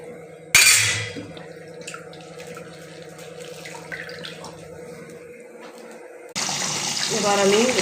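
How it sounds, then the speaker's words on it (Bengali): Water pours from a tap into a pot of meat and potato curry, a sudden splashing gush followed by a quieter running trickle that swells again near the end, close and fairly loud. "এবার আমি এতে জল অ্যাড করবো।"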